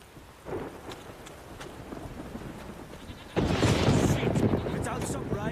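Heavy rain and rumbling thunder in a stormy outdoor scene in The Witcher 3, a steady downpour that swells much louder midway, with faint voices beneath.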